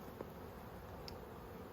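Honeybees buzz during a hive inspection, a steady low hum of many bees close by, with a couple of brief faint clicks and no talking.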